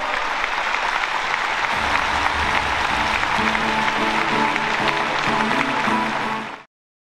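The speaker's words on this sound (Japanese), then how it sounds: "もう一度坂選手、そして内山隆選手に大きな拍手をお願いします" A boxing event crowd in a ring arena gives loud, sustained applause for two fighters, dense clapping held steady for about six seconds before cutting off abruptly, with faint voices mixed underneath.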